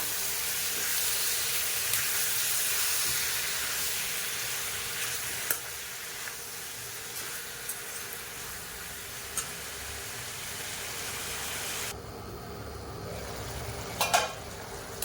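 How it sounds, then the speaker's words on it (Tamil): Half a kilo of washed chicken sizzles in a hot pan while it cooks for a fenugreek-leaf chicken gravy. A steady, hissing fry runs throughout with occasional stirring clicks, then thins out near the end. "இப்போ இதில் சிக்கனை சேர்த்துக்கிறேன்"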